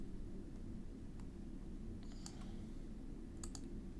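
A few faint computer mouse clicks, used to plot a graph in Origin software, sound in two small clusters over a steady low room hum.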